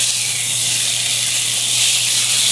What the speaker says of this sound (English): We're just gonna sear this up on all sides